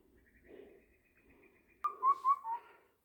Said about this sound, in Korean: 새소리가 특이하네